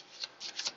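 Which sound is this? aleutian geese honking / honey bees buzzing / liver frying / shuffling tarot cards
shuffling tarot cards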